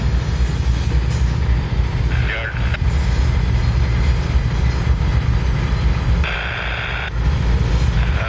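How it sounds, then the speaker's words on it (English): Locomotives slide through a rail yard at Binghamton Terminal to couple onto a train, a loud, continuous low rumble and diesel drone with intermittent higher squeals and hiss, heard up close and steady throughout. "They're sliding over to hook up on this train that's over here."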